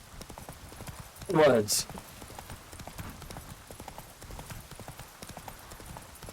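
Hooves of Roach, the horse in the Witcher 3 video game, clip-clopping in a short burst near a Falverdale swamp, steady hoofbeats riding under a man's speech and ambient game sound.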